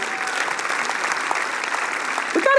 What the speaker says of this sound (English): Come on and give the Lord a hand clap right now.